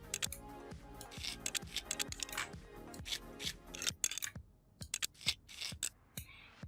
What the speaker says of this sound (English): Tighten the screws.